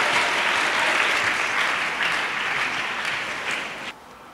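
A large audience at a church gathering claps continuously in loud sustained applause that fades slightly toward the end.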